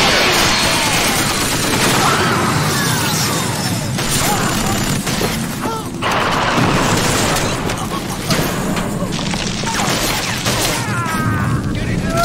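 Gunfire and explosions fill a Killzone HD battle: a dense, continuous barrage of shots and heavy booms, loud and close throughout, with voices shouting underneath.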